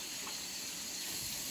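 Tap water runs steadily into a sink while hands are wetted, a soft continuous hiss and splash heard close and alone.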